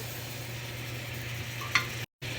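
Butter sizzling in a frying pan, a soft steady frying hiss with a faint low hum, one small click and a brief dropout near the end.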